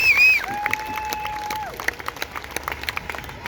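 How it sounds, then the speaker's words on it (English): An outdoor crowd at a freedom rally in Adelaide claps steadily with scattered sharp claps and cheers, moderately loud, as a voice briefly calls out at the start. "So give yourselves a round of applause for coming out."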